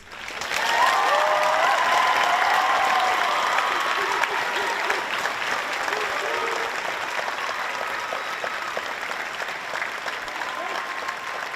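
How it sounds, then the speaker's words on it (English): Long, sustained applause from a crowd at a police academy graduation ceremony for Class 172, loud at first and then easing slightly, with some cheering and murmured voices mixed in. "please join me in a final round of applause for Class 172"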